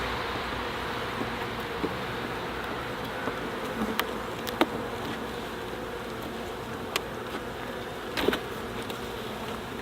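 Honey bees buzz steadily around a hive being checked for small hive beetle infestation, a dense continuous hum with occasional sharper passes of individual bees flying close.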